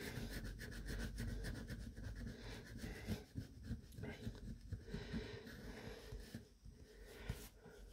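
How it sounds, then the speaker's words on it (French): Coin or fingernail rasping over an FDJ La Bonne Pile scratch-off lottery ticket, a close, continuous scraping with quick repeated strokes and brief pauses. "On va gratter toutes les étoiles d'abord."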